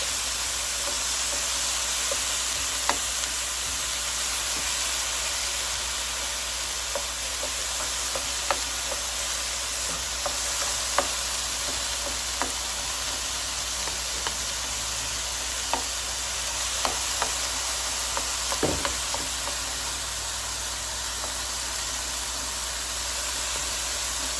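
Ground beef with taco seasoning sizzles steadily in a pan, a close, continuous hiss and crackle with scattered pops and the occasional stir, and no talk over it.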